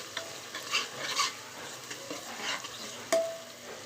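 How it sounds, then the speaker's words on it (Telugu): Onions and fresh ginger paste fry in a non-stick pan with a quiet, steady sizzle, broken by a few soft scrapes and taps of stirring close by. "ఉల్లిపాయలు అవి బాగా వేగాయి ఇప్పుడు మనము కొంచెం అల్లం పేస్ట్ ఫ్రెష్ది వేసుకుందాం బాగా టేస్ట్ ఉంటుంది నెక్స్ట్ ఇది కూడా బాగా వేగిపోవాలి"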